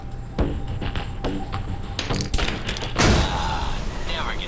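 In the video game Alpha Protocol, a grenade thrown beneath a truck sets off its gas tank: a burst of thuds and loud blasts with crackling debris, dense and close amid ongoing game noise.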